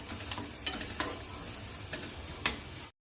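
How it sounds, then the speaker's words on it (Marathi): Red bell pepper sautéing with turmeric and red chili powder in a pan, a soft steady sizzle broken by a few sharp spatula scrapes and taps, fairly quiet, ending abruptly, with no talk. "आता याला आपण आणखी परतून घेऊ"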